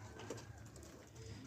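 Racing pigeons back home after a 10-kilometre release give a soft, faint coo amid quiet background noise.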